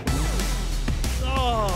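A Volvo race car engine at a wet-weather race launch, bogging down: a loud, steady engine drone with a falling then rising pitch, briefly faltering before picking up again, close and continuous throughout.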